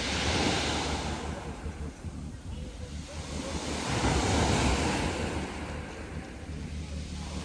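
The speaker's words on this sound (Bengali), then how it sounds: "বড় বড় ঢেউ আসছে" Big waves roll and break on Batumi beach on the Black Sea, a loud, surging roar that swells and recedes, with wind buffeting the microphone.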